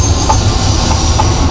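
A tram running in a video game set in Croydon, a loud steady rumble of rolling wheels with faint rhythmic clicks as it travels along the track.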